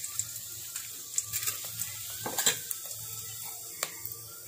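Dried red chillies, broken by hand, hit hot oil in a kadai and give off a faint, steady sizzle, with light clicks and taps of utensils scattered through it.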